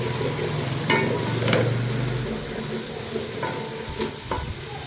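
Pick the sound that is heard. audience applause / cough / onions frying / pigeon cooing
onions frying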